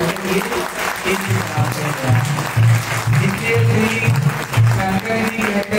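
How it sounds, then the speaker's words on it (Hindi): Listeners at a Bhagwat katha religious discourse in Faridabad clap in a loud, rhythmic beat over a low, pulsing musical drone, the sound close and continuous throughout. "आप लोग भी ताली बजाओ"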